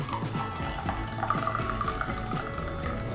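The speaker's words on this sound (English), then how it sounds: "we're gonna add about 1/2 cup of additional water" Water poured into an AeroPress coffee brew, a close, steady gurgling stream with rising bubbly pitch as the vessel fills, continuous throughout.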